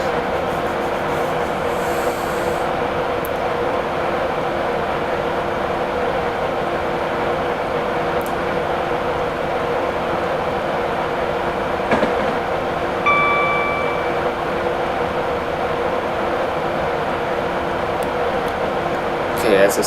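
A high-speed train in the Train Simulator 2017 game runs steadily on the line, with a continuous even rumble and hum and a brief faint tonal chime partway through.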